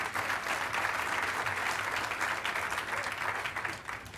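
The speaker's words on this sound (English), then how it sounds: "Let's give him a round of applause for that." An audience at a mayors' gathering applauds during a speech, a sustained wash of many hands clapping, full and even throughout before thinning slightly at the end, with no speech over it.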